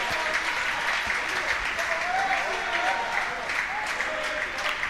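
Steady applause from a big crowd fills a para table tennis finals night at the European championships, a broad continuous wash with some voices mixed in.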